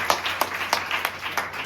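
An audience claps at a school-style prize day event, a run of separate sharp claps in an uneven rhythm, fairly close and moderate in volume.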